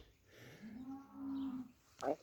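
A single drawn-out cow moo rises and holds from a field beside the cattle sheds on a farm, moderately distant and fairly quiet, followed by a brief knock.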